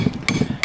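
A hammer drives mushroom spawn dowels into a log for growing oyster and shiitake mushrooms, two sharp, close taps in quick succession.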